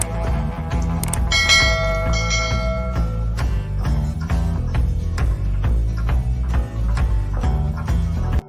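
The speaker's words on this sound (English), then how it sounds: "I hope you all heard that bell ring." A bell rings repeatedly in a steady rhythm, its bright tones ringing out and overlapping against a dense, busy background, with no talking.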